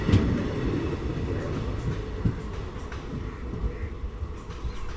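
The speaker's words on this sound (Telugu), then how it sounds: "కాకతీయ ఎక్స్ప్రెస్ డిపార్ట్ అయితే వెళ్ళిపోతుంది" A Kakatiya Express train pulls away past the trackside at Ghatkesar on South Central Railway, a steady low rumble of wheels and carriages with faint clickety-clack running loud and continuous throughout.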